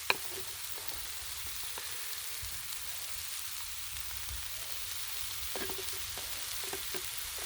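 Sliced kielbasa and minced garlic sizzle on a Blackstone griddle in a steady, moderately loud hiss, broken by a few sharp utensil taps and scrapes.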